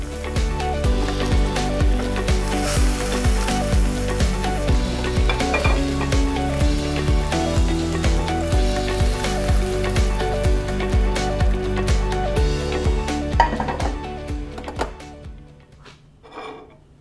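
Cod fillet fries skin-side down in a Berndes non-stick pan, a dense, steady sizzle and crackle with occasional utensil taps, fading out near the end.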